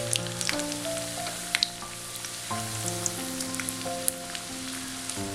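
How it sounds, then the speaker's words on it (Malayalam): Tender jackfruit cutlets frying in oil and being turned over, a soft crackling sizzle with scattered pops, under a sustained musical backing tone and no talk. "അപ്പോൾ ഇത് ഇനി തിരിച്ചും മറിച്ചും ഒക്കെ ഇട്ടൊന്ന് മൊരിയിച്ചെടുക്കാം."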